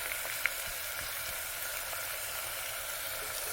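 Onions frying with rock salt in a pan while being stirred, giving a steady, moderate sizzle with faint scraping, close by, with no talking.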